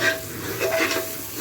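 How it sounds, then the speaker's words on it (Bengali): Ginger garlic paste and spices sautéing for beef nehari, a brief burst of sizzling with stirring scrapes in the pan, moderately loud and close. "এর মধ্যে আমি আদা রসুনের পেস্টটা দিয়ে দিলাম। ভালো করে কষে নিতে হবে।"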